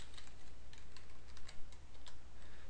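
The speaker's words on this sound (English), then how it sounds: "We can start typing names into this text box to construct the draft roster" Quick, light clicking of keystrokes on a computer keyboard as names are typed into a text box, an uneven patter of taps at close range over a quiet room.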